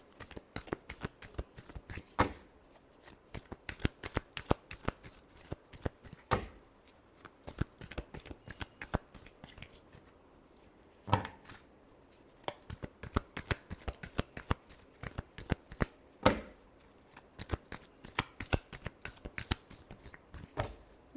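Tarot cards shuffled by hand in repeated rapid riffling bursts with short pauses between, crisp papery slaps and flutters heard close up, with no talking.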